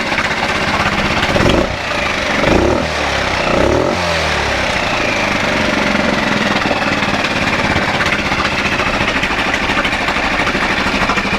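A dinghy's outboard motor idles with a steady low rumble and rattle, close by and continuous, with a few brief surges near the start.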